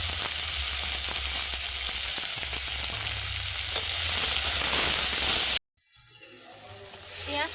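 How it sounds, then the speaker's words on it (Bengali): Chopped onion and tomato fry in a pan with a steady, close sizzle that cuts off abruptly near the end, followed by quiet clinking. "পেঁয়াজ টমেটো একটুখানি ভাজা ভাজা হয়ে গেছে"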